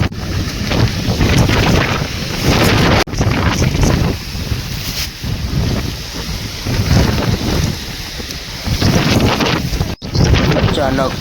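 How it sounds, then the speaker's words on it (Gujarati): A strong storm wind sweeps across a farm field of flattened crops, buffeting the microphone in loud rushing gusts that surge and ease repeatedly. "ફૂલ પવન વાવાઝોડા જેવો આવી ગયો"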